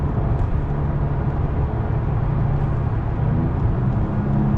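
Inside a 2017 Toyota Tacoma TRD Off-Road fitted with sound deadening, the engine holds third gear just over 4000 RPM, a steady low cabin drone mixed with road rumble and no voices.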